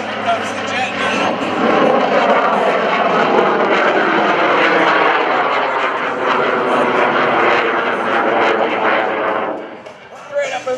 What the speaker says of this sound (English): Listen, here comes the jet now.